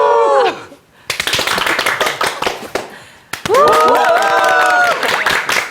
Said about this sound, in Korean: 왼손을 들면 박수, 오른손 함성.